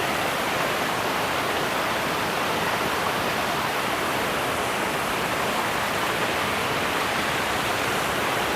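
Steady, dense roar of water from the Ilaveezhapoonchira waterfall, a broad continuous rushing wash with no pauses, close and fairly loud, no voices present.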